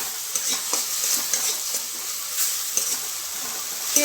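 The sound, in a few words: oil frying in a pan with tomato and water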